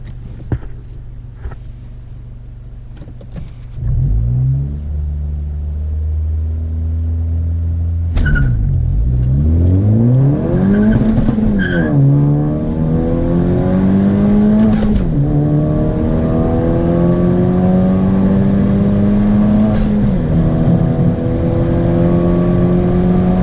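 A Honda Civic Sport hatchback idles, then launches into a quarter-mile run, its engine rising in pitch through repeated upshifts, each followed by a drop and renewed climb, loud and close from inside the car.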